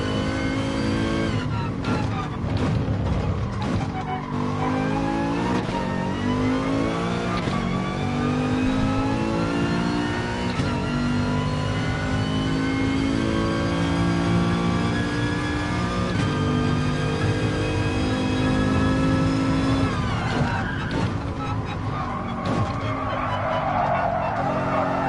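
Race cars in GT Sport during an FIA Gran Turismo Championship exhibition round, a loud continuous engine howl rising and falling through gear changes with tyre skids, close and steady for the whole stretch.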